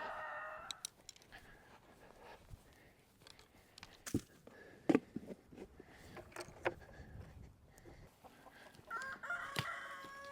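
Australorp chickens cluck in scattered, faint bursts while a rooster crows intermittently, set against a quiet outdoor farm backdrop with occasional handling noises.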